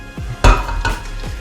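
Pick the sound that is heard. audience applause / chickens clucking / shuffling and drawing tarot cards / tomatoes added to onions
tomatoes added to onions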